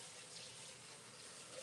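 Tap water running steadily into a sink while rice is rinsed, a faint, even hiss of flowing water with no talking.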